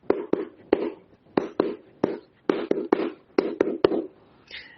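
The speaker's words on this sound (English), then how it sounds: "So sordas is where you basically cup your hands to make a dull sound" Flamenco palmas sordas, hands cupped to give dull, muffled claps in a quick, uneven rhythmic pattern of about a dozen soft hits, close and solo.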